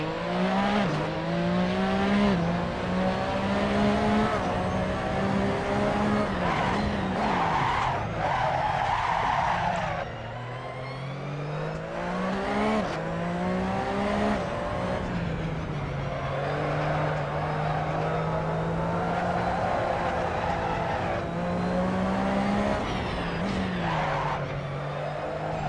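Tires of a Porsche 911 RSR race car squeal hard and continuously in Assetto Corsa while being warmed up, a loud, sustained screech over engine drone with shifting pitch and a brief dip midway.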